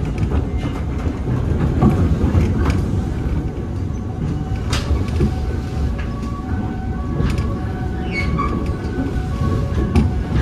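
A train pulls into Rangkasbitung station, a steady rumble of rolling cars filling the platform with faint clicking and a few high squeals over about ten seconds, no talk.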